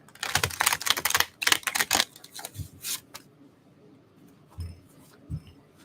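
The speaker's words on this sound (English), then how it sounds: "I feel like I really need to shuffle really well" Quick bursts of tarot card shuffling, riffling and slapping in rapid clusters, then a few soft taps and low thumps in a quiet room.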